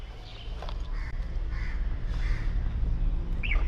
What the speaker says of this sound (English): Look at these big ass birds on the balcony.